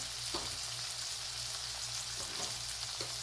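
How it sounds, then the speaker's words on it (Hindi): Masala of soft tomato, turmeric, green and red chillies and coriander powder fries in a pan, giving a steady close sizzle with a few soft stirring scrapes and no voices. "फिर इसको अच्छी तरह मैं भून लूँ मिर्चों को"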